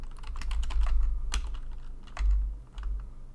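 Close, steady typing on a computer keyboard at a command prompt, with irregular clusters of crisp key clicks over a low background hum and no speech.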